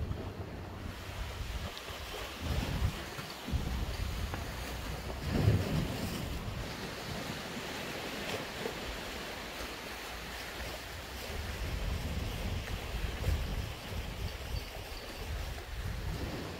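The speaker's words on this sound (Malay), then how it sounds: "Ombak pun tak tinggi lah, dia sudah reda sikit-sikit." Sea waves wash onto a beach with moderate, subsiding surf, a steady rolling roar with gentle swells rising and falling under light wind noise, no voices present.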